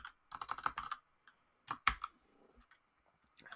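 Forth code being typed on a computer keyboard: bursts of quick key clicks in two short runs separated by pauses, close and fairly quiet, with a few isolated taps toward the end.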